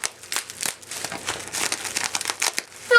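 Regular bubble wrap crinkles and crackles loudly and close up as a package is opened, a steady run of crumpling bursts for about three seconds with no speech.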